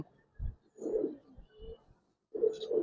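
Pigeons in a loft give low, throaty coos in short bursts with pauses between them, close by and fairly quiet.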